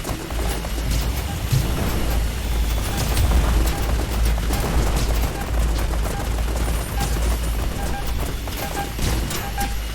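Rapid machine gun fire in a shooter video game against robots, a steady chattering stream of loud shots with thumping impacts running almost continuously.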